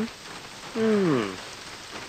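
Steady rain patters softly in the background while a voice briefly speaks over it.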